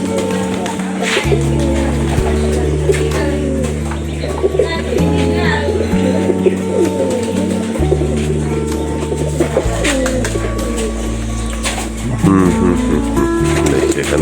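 Pigeons in a loft coo repeatedly at close range, with low rhythmic calls and some chirps, under a voice talking over them.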